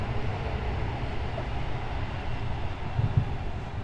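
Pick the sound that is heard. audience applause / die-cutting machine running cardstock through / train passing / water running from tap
train passing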